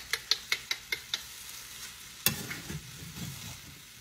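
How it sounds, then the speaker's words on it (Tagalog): A spoon scrapes and knocks against a pot while thick ugali is stirred, a run of sharp evenly spaced taps followed by a louder scrape and soft rubbing. "Lagi kong hinahalo para yung sa ilalim hindi magdukot."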